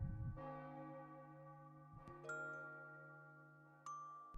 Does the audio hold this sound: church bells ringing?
yes